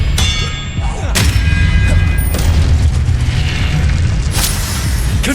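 Disarming spell blasts in Hogwarts Legacy PC combat: several sharp, bright bursts and thuds at irregular intervals, loud and close, over a constant heavy low rumble of battle effects, with no speech.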